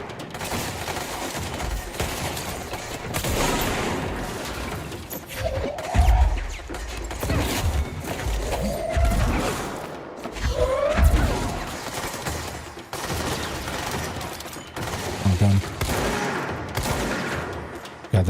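Sniper fire in the video game Control: bursts of gunfire and impacts that crack and thud at irregular moments over a constant layer of combat noise, with some sharp whooshing effects in between.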